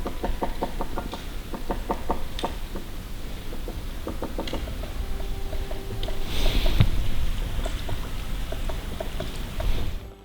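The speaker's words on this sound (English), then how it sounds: "we heard the drumming of a distant woodpecker" Woodpecker drumming in a snowy forest, rendered as several distant bursts of rapid, evenly spaced knocks separated by pauses over a quiet outdoor background.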